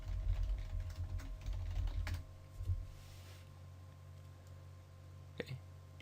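Quick bursts of typing on a computer keyboard to log into Scratch, close and crisp key taps clustered at the start, then a quieter pause and a couple of isolated clicks.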